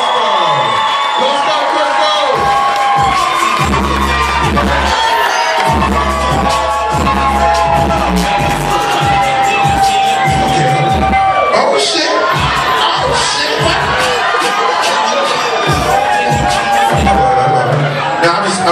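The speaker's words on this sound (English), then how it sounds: "can we get a round of applause for my new friend?" A comedy club audience cheers, whoops and claps loudly and continuously, a dense crowd roar with shouts rising above it throughout.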